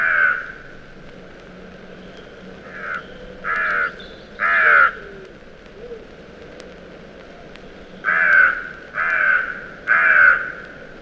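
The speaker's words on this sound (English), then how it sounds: "The carrion crow has a deep hoarse caw that often punctuates the other bird sounds of March." A carrion crow caws in woodland in March, giving deep, hoarse calls in two groups of three, loud and fairly close, with quiet background between them.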